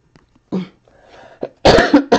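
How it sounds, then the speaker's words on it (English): A person coughs into an elbow, a few short muffled bursts after some quiet shuffling, then two loud harsh coughs close up. "I am coughing into my elbow when I do that"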